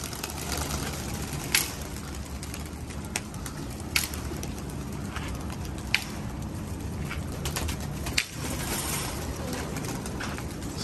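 Soft, low pigeon coos repeat steadily beneath a constant background hum, with a few faint clicks and taps scattered throughout.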